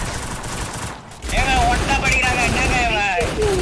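Sniper rifle fire echoes through a Free Fire match, with a loud burst of shots after a short lull and game effects ringing underneath, and a voice appears to be talking over it.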